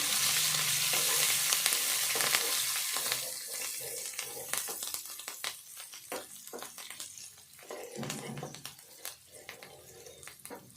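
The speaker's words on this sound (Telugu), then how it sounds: "తాలింపు ఇట్లా మంచిగా వేగాలి" Garlic, curry leaves and chana dal crackle in hot oil as tempering for tomato chutney, a loud sizzle at first that settles into lighter spitting and pops with stirring.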